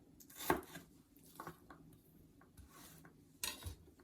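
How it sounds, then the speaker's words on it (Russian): A few sharp knife chops through onion on a cutting board, spaced irregularly with quiet gaps between, close and fairly soft. "Нарезаю тоже довольно-таки мелко."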